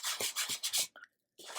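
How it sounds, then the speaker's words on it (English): Brisk back-and-forth rasping of sandpaper sanding laser char off wood, four quick strokes, then a short pause before the scrubbing resumes, close and clear. "taking sandpaper and just sanding some of that char off"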